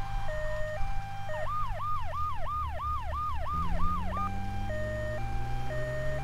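Ambulance siren from Grand Theft Auto 3, a steady two-tone wail that breaks into a fast rising-falling yelp before returning to the alternating tones, loud and close over a low engine hum.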